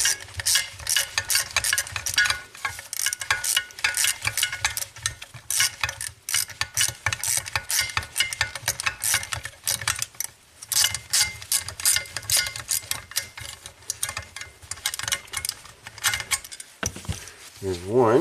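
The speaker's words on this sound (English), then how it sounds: "remove these two bolts holding the big bracket to" A ratchet wrench loosening bolts on a large bracket inside a Ford Fusion stuck in park, clicking in fast continuous runs with brief pauses, close and loud throughout, with a few faint words under the mechanical noise.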